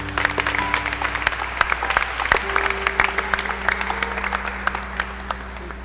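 A church congregation at a weekday Holy Mass in a shrine gives a round of applause, steady scattered clapping that stays loud and even over several seconds, with no talking.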